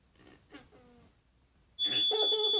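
A household smoke detector gives a steady, loud high-pitched electronic beep that starts abruptly after quiet sounds and continues to the end, close to the listener.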